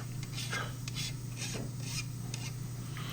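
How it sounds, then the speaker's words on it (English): A hand file rasps along the sharp metal edges of a table saw sled part in steady back-and-forth strokes, close and clear over a low constant hum. "I like to file the sharp edges there"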